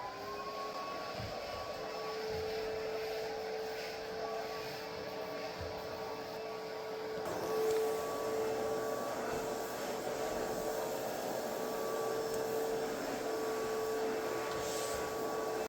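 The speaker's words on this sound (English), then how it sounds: "Now we're going to do the vacuuming." A commercial vacuum cleaner runs steadily across a floor inside an elementary school building, a continuous droning hum with a whining tone that holds for the whole stretch, fairly close and with no talking.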